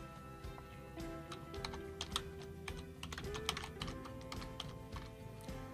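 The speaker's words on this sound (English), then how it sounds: "In this case I'll just simply type the company name." Keys on a computer keyboard are struck in a quick, uneven run of soft clicks and taps, close and quiet, with faint background hum.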